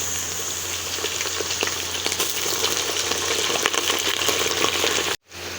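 Meat sizzles and crackles steadily in hot mustard oil for haleem, a loud continuous frying hiss with small pops, ending in a brief cut.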